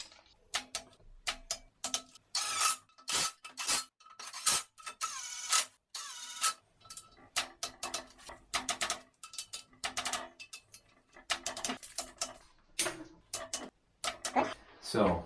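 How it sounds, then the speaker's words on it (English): A ratchet or torque wrench tightens the side bolts of a Ford Lion TDV6 diesel engine block from a Land Rover Discovery 3 to 33 newton meters, giving long runs of quick, close, dry clicks broken by short pauses. "Now we got to tighten the side bolts. 33 Newton meters."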